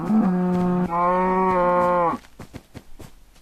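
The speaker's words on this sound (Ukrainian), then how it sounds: "Страшні корови. Тут найбільш подібні на рай. Добре, Ходіть до мене, корови." Cows in the video game Minecraft moo twice in a row, loud and close, each call a long drawn-out bellow, followed by a brief scatter of quieter game clicks and footsteps.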